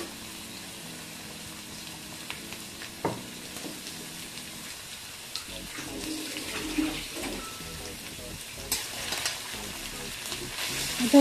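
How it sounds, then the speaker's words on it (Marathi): Crushed ginger and garlic fry in hot oil in a wok, making a low, steady sizzle with occasional clinks and stirring scrapes. The sound is fairly quiet throughout. "आता आलं आणि लसूण चेचून घेतले ते टाकूया।"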